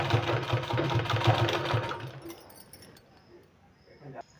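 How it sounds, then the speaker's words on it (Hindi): A sewing machine stitches a sleeve in a steady, close run for about two seconds, then stops, leaving quieter handling noises and a short bump near the end. "यहाँ हमको इस तरह से सिलाई लगा देना है"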